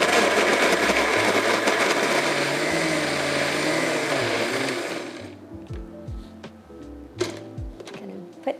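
A kitchen blender whirs at a constant loud pitch while blending candle nuts with a little water, then stops about two-thirds through, leaving a few knocks and clinks of the jar being handled.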